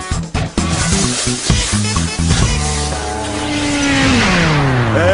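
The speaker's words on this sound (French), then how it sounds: "Waouh, une moto des neiges géniale." Cartoon snowmobile engine revving hard and driving up close, a loud rising motor drone with bursts and a sustained whine building toward the end, no talk over it.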